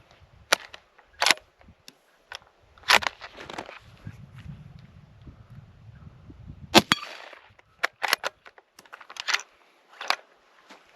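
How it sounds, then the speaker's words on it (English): Metallic clacks and snaps of a Ruger American .308 rifle action cycling as rounds feed from the magazine, the last one sticking, a series of sharp close clicks and bolt strokes separated by brief pauses over a low background rumble. "the last round in the magazine hung up a little bit there, but then it finally went back in"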